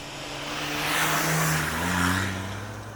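A rally-prepared Toyota 70 Series 4x4 drives fast off-road, its engine droning and revving in a broad swell that rises and falls over a few seconds amid wind and road rumble.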